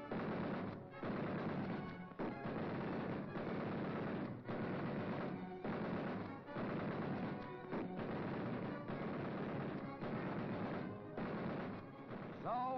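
Sustained bursts of machine gun fire from fighter aircraft strafing supply lines in the Korean War, heard as loud, continuous rattling volleys broken by brief gaps, with a dense, filtered archival newsreel sound.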